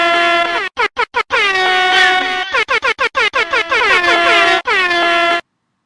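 An air horn blares in long stacked tones broken by quick rapid bursts, loud and alone, dropped in as a sound effect during a podcast.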